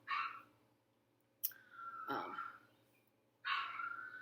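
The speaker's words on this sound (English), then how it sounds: "if you hear my dog, he's throwing a tantrum." An indoor dog throwing a tantrum lets out a few faint, spaced yelps and whiny barks with quiet gaps between them.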